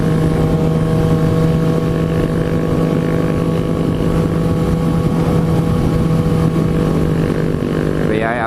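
A Suzuki GSX-R 750 motorcycle on a California mountain ride holds a steady, droning engine note with strong constant wind rush over the microphone, loud and continuous with a brief rising whine at the end.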